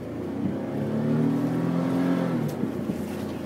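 A car engine strains and revs steadily as it climbs a desert sand dune in Oman, a loud sustained drone that holds and then eases off near the end, with no talking.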